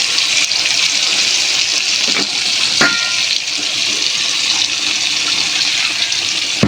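Water splashes into a hot pan of frying ginger, garlic and onion paste with turmeric and chili powder, giving a loud, steady hiss and sizzle, close up and without talk.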